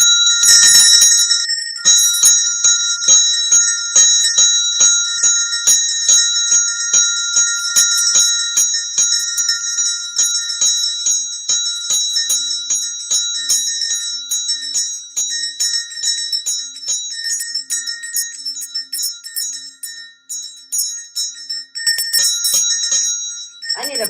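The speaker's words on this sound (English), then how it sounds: "We're going to ring the bell in honor of all of them." A small Tibetan-made bell rung repeatedly over about twenty seconds, each bright metallic strike ringing out with long sustained overtones that overlap as the tone slowly fades, heard close and alone without talk.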